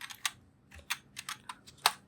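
Computer keys tap out a search term in quick, uneven bursts of crisp clicks, close and fairly quiet, with no one speaking.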